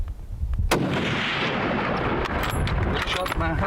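A single loud 7mm rifle shot fired at an urial sheep cracks sharply, then its report rolls and echoes across open terrain for several seconds.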